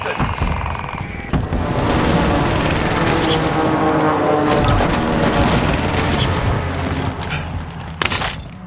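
In Call of Duty Warzone, a Nebula 5 bomb detonates far off as a loud, rolling, rumbling roar that swells and lingers for several seconds before fading.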